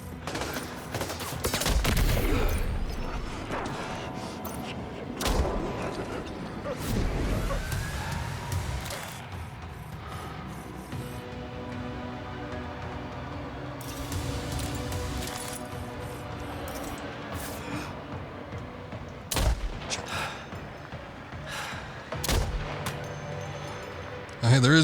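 Gunfire from the video game Death Stranding 2 comes in bursts of sharp cracks and rattling volleys over a steady game soundscape, with some louder reports and a voice talking at times.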